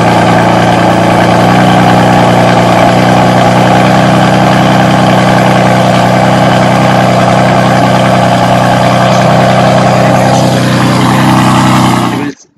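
Virtual car engine sound from the 3DTuning online car configurator, a loud, steady idling rumble held at an even level throughout, then cutting off abruptly at the end.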